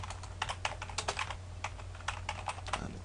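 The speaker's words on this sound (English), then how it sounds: "Just type something here" Quick, irregular keystrokes on a computer keyboard, close and clear over a steady low electrical hum, with no talking.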